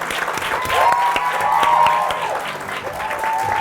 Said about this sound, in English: They're clapping for you.